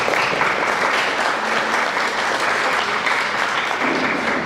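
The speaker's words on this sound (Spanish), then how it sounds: "Lo recibimos con un fuerte aplauso." An audience applauds to welcome a speaker at a lecture on international humanitarian law, with dense, loud, sustained clapping that fills the room evenly throughout.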